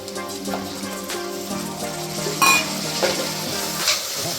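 Onions and spices fry for mushroom biryani, a steady close sizzle with stirring scrapes and a few sharper metallic clinks of a spoon against the pan.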